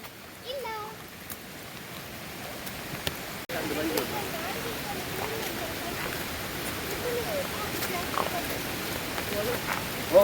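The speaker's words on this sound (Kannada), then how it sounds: "ಮೇಲೆ ಮಳೆ ಬರ್ತಾ ಉಂಟು" Steady rain hisses and patters over everything near Ermayi Falls, with faint voices now and then beneath it.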